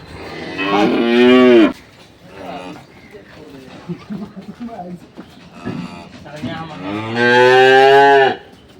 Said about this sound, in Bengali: এটা হচ্ছে দুই নম্বর বাছুরটিকে বের করা হচ্ছে